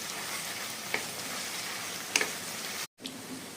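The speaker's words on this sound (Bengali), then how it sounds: "আর আদা রসুন পেস্টটা ততক্ষণই কুক করবেন যতক্ষণ এটার থেকে কাঁচা গন্ধটা না চলে যায়" Ginger garlic paste frying in a pan for Bengali-style chicken dak bungalow, a steady soft sizzle throughout with a couple of faint clinks and a brief break near the end, no talking.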